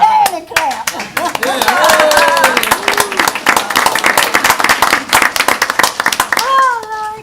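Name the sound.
audience clapping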